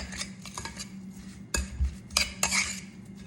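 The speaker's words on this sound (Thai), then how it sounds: "คนส่วนผสมให้เข้ากันค่ะ" A utensil stirs batter for a Thai corn dessert in a bowl, giving soft scraping and a few clinking knocks against the side, close and fairly quiet, with no talking.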